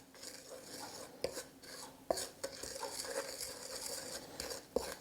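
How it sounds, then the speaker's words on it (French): A spoon stirs a dry seitan mixture of flour and spices in a bowl, giving a steady soft scraping rustle with a few sharp clinks against the bowl, close and fairly quiet with no talk. "On mélange notre préparation sèche."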